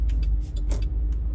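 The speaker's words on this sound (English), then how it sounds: "It's completely packed out here. All tourist traffic" Tourist car traffic on a packed road on Sanibel Island, Florida, rolls past in a steady low rumble with a few louder passing swooshes.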